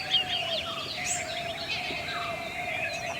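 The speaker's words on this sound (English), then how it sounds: "Oh, that's the purple sunbird." Purple sunbird calling in Goa, India: thin, high chirps and short twittering notes over a steady insect-like hum and outdoor ambience, moderately distant.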